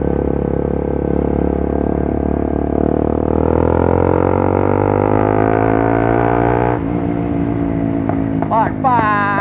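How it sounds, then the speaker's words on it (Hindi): A modified, remapped Bajaj Pulsar NS 200 motorcycle with an Akrapovic exhaust roars past in a loud fly-by, engine pitch climbing steadily before dropping sharply as it passes, ending with crackling pops from the exhaust. "क्योंकि आवाज़ आती है और जब फ्लाई बाय निकलता है बूम, मज़ा आ जाता है उसमें।"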